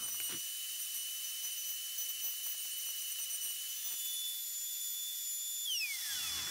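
A Pantorouter cuts a wooden watch bezel with a high, thin whine that holds steady throughout, with faint scraping ticks of the cut beneath, before the pitch slides down at the end as the tool winds down.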